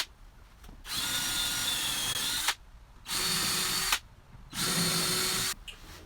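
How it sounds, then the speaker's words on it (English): A power drill bores pilot holes in wood clamped to a workbench, in three sustained whirring bursts of about one to two seconds each, separated by short pauses. "I'm going to drill my pilot holes first."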